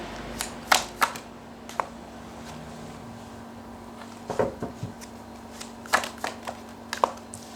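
Tarot cards being shuffled in several brief bursts of crisp riffling and slaps, close and fairly quiet, separated by pauses under a steady low hum, with no one talking.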